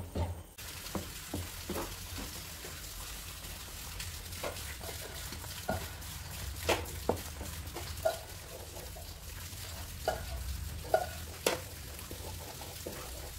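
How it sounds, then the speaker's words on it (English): Bottle gourd halwa is stirred in a pan over a low-medium flame. A soft, faint sizzle runs underneath as scattered scraping strokes of the spoon come through at a gentle pace. "we keep it in a low medium flame and keep stirring it"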